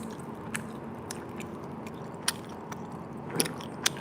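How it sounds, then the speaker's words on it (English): Sweet crispy rice cake layered with sugar syrup gets bitten, giving a few sharp, close crunches spread across a quiet background with no talking. "You can hear the crunch."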